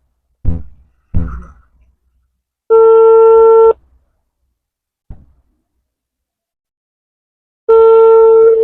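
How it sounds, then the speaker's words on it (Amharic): Telephone call tones while a call goes unanswered: two long, steady electronic tones about a second each, separated by a pause, following a couple of short clicks or knocks. The tones are clear and fairly loud with no talking. "ስልክ እያነሳ አይደለም፣ ቢዚ ሊሆን ይችላል።"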